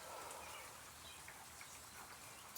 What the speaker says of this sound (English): It's raining out right now.